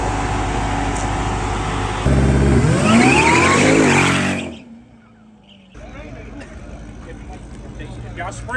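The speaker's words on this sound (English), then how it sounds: "You guys seen Trackhawk pulling up?" Jeep Trackhawk at a street-racing event, its engine loud and roaring as it revs and climbs in pitch, then cutting off abruptly, with crowd noise and voices around it.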